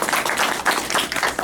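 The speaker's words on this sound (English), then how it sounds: "Another round of applause." Audience applause at a Ghostbusters fan panel during a comic con in Niagara Falls, a dense burst of clapping filling the short moment.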